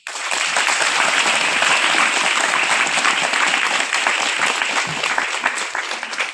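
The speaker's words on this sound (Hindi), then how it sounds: "तालियां बजाइए।" An audience at a Hindi religious sermon gathering claps in a loud, sustained burst of applause that fills the whole stretch with dense, continuous clatter.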